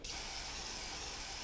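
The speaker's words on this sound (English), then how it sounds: "spray it 3 or 4 coats" A short, close burst of spray hisses steadily as a coating is applied to a crossfeed nut shaft, alone with no talk.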